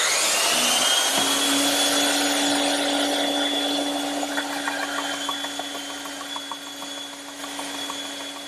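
A power saw whines steadily while a heavy trestle table stretcher is fed through it, a loud continuous motor tone with a high pitched ring that softens slightly as the cut goes on.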